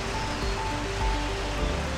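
Steady rain hisses continuously at Grandwook Park, a dense even wash of noise with no pauses, fairly loud and close.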